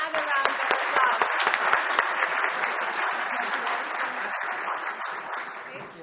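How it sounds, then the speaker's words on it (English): Dense, steady applause from a conference audience at the SDEWES 2017 award ceremony, with many hands clapping together close by and sustained for several seconds before easing slightly toward the end. "another round of applause"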